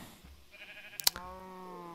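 A single sheep in a video game bleats once, a short wavering call that sits moderately loud over quiet game ambience with a sharp click in the middle, and no talking.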